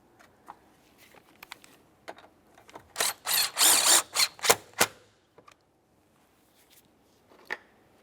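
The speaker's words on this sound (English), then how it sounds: "Take that mounting bolt, slide it down there, and snug it up." A hand ratchet snugs a battery hold-down mounting bolt on a 2001-2005 Ford Sport Trac, giving a close burst of rapid clicking, a few scattered clicks before and after, with no talking.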